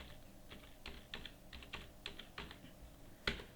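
Soft, steady tapping on a computer keyboard, roughly a dozen keystrokes at an even pace with one sharper final press, quiet and with no speech.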